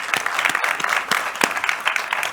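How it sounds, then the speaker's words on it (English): Applause from the audience at a product launch event, many hands clapping in a lively, uneven patter with a few sharper individual claps standing out near the front. "Big round of applause for that"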